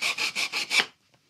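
Back-and-forth sanding inside a wooden dovetail box using a makeshift sander, five rhythmic rasping strokes close by, then near silence and a brief final scrape.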